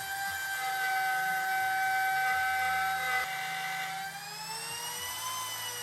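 A wood router cutting wood for custom drawers fitted to a GQ Patrol, a loud sustained high-pitched whine with steady tonal harmonics that shifts slightly in pitch toward the end, no talking.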